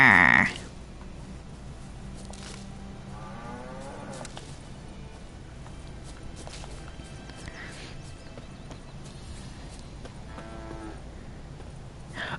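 Several cows moo in drawn-out calls in the video game The Witcher 3, some close and some farther off, over a steady background hum, with hooves clopping at times.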